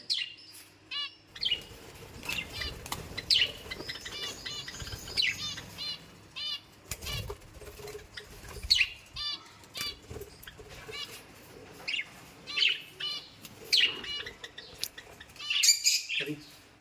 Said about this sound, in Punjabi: ਇਹ ਬਾਹਰਲੀ ਹੈਗੀ ਆ ਮਤਲਬ ਬਰੀਡ ਜਿਹੜੀ ਘੁੱਗੀਆਂ ਦੀ ਆ